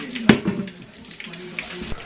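Tap water runs into a container to soak fish balls in a home kitchen, a soft steady splashing with a sharper clatter near the start, heard under a quiet voice.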